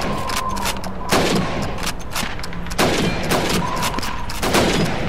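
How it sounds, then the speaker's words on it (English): Rifle shots at helmet targets in Call of Duty 2 ring out in a steady series of loud, sharp cracks about a second apart, each with a short echoing tail. "You have 15 seconds to shoot the helmets."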